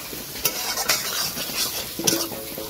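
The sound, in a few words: broiler chicken meat being stirred and fried in a pan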